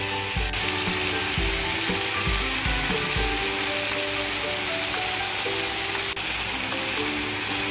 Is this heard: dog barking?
no